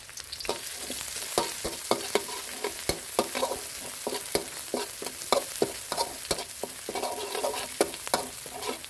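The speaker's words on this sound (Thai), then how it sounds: "แล้วนำพริกกระเทียมที่เราตำเอาไว้ลงมาผัดก่อนครับ" Pounded chili and garlic stir-fry in a little vegetable oil, giving a steady sizzle under frequent sharp clacks and scrapes of a spatula on the pan, close and busy, without speech.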